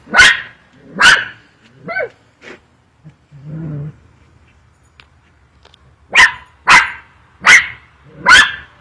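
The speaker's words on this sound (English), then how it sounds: "This is Lily barking at a pumpkin." A dog barks at a pumpkin in a backyard pumpkin patch in sharp bursts, two at first, then a low growl, followed by four more loud, evenly spaced barks close by.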